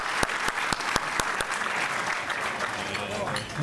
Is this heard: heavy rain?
no